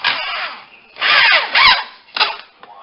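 A power drill sinks a 2-inch drywall screw through cornerbead on a basement wall corner, close and loud, in three or four short whirring bursts with rising pitch.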